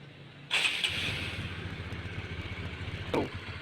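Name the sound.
motorcycle engine starting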